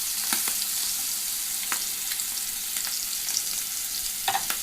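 Butter hitting a hot pan of seared sea scallops, an even close hiss of sizzling with a few faint clicks and pops, no talk.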